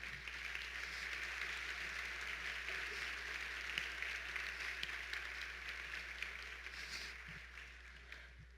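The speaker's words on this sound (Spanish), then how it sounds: "Recíbale con un fuerte aplauso también a él." Audience applause welcoming a guest speaker, a moderately faint, steady spread of clapping from a crowd, tapering slightly toward the end, with a low steady hum underneath.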